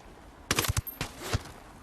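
Gunfire in the video game Ghost Recon Wildlands, a short cluster of sharp shots followed by a couple of further cracks, fairly faint and quick, with no talk over it.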